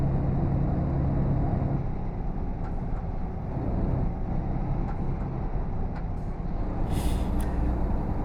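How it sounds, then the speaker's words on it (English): Road traffic rolls past with a low, steady rumble, and an air brake lets out a sharp hiss near the end as a vehicle slows. "Keep putting their brakes on."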